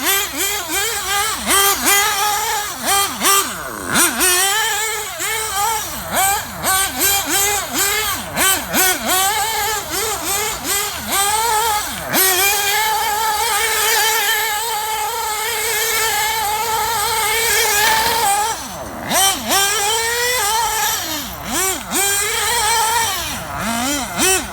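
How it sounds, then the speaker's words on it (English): A Losi 8IGHT RC buggy's nitro engine runs on old fuel, buzzing high and revving up and down in repeated sharp bursts, close and loud with short steadier stretches between. "Let's see how hot we can get this engine anyway."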